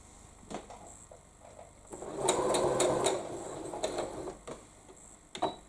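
A sewing machine stitches a quilt forward and then in reverse, a quiet rapid mechanical chatter swelling in the middle of the clip amid faint ticks and clicks, close up with no voices.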